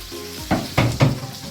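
Garlic and chili hitting hot oil in a pan, three quick bursts of crackling sizzle as they are stirred in, close and fairly loud over a steady frying hiss.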